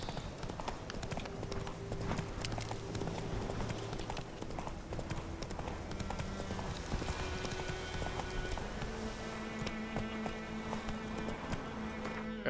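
Roach the horse gallops in The Witcher 3 in a steady, rhythmic run of hoofbeats that keeps on through the whole stretch, set against game music and ambience.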